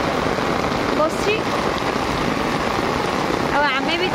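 Heavy rain pours at the Baripada Bahuda Rath Yatra, a dense steady roar of rainfall close by, with voices talking over it and a few brief whistle-like tones.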